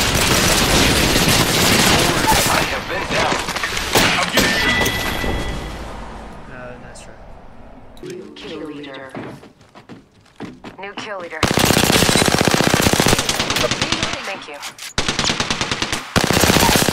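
Gunfire in the battle-royale shooter Apex Legends comes in loud, rapid automatic bursts. It eases into scattered quieter shots and a lull, then returns as dense, close-range volleys.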